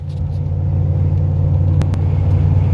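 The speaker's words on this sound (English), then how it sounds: "gave her a wide open from a dead stop, and that bog after the 1-2 shift" Ford truck with an EFI 460 engine pulling wide open from a dead stop, loud steady low engine roar with a short bog after the 1-2 shift and a couple of brief clicks.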